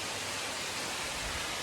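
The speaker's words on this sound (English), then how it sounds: "So we have arrived at waterfall number 4." Malapek waterfall on a Croatian hike roars in a steady, loud broadband rush of falling water, unbroken and without voices.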